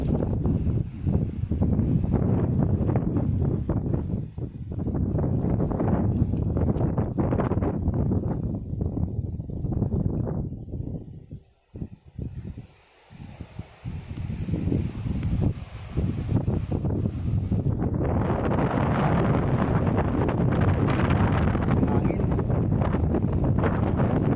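Strong gusts of wind in a tomato garden buffet the microphone in heavy roaring bursts, dropping briefly to near quiet midway before surging back loud and steady.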